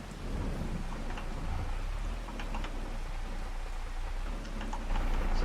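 Steady rain falls with a low rumble underneath in Farming Simulator 25, a dense, even wash of sound with no talking.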